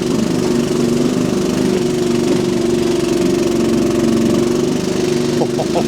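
A Crytec CREX6-M mini excavator's small engine drones steadily up close at a fairly high, even pitch with a slight knocking rumble, continuing without speech.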